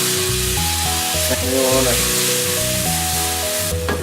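Wild lettuce (prickly lettuce) frying in freshly browned butter, a steady close sizzle with clinking pan sounds and a bed of tonal background music running throughout.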